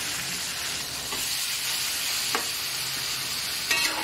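Pork sautéing in a hot pan: a steady close sizzle with occasional utensil stirs and scrapes, heard alone without talk.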